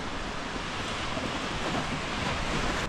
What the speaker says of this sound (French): Découvrons ensemble s'il y a beaucoup de vagues.